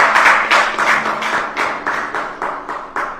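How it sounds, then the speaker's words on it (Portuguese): Church congregation clapping in unison during a Portuguese-language service, a steady rhythmic beat of roughly three claps per second, loud and full with many hands joined, carrying on alone without talk. "Uma salva de palmas para Jesus."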